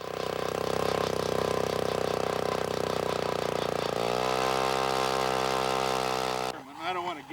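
Loud, steady mechanical drone of an engine-powered ice drill boring through the ice of frozen Monument Lake close by, its pitch shifting partway through before cutting out abruptly near the end.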